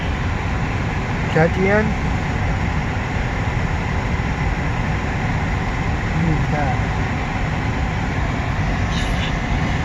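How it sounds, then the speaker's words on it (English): A long CN mixed freight train rolls past, giving a steady, continuous rumble throughout, while people talk briefly over it. "It's just a long train."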